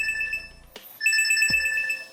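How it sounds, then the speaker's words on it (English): A health notification chime from a computer controlled by a brain-computer interface implant: a short run of bright, high electronic tones, then a brief gap and a second, longer run of chiming beeps, with a soft thump in between. "So that just sent out a health notification."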